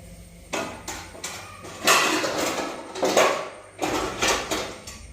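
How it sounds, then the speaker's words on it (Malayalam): A cooking pot is handled in a small home kitchen, giving a series of metallic clanks and knocks spaced about half a second apart, close and fairly loud with no talking. "പാത്രം എടുത്ത്"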